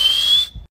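A person whistles through the gap in the front teeth to imitate a car turbo spooling, a thin high tone climbing slightly in pitch for about half a second before stopping, close and clear.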